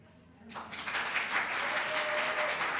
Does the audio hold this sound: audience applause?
yes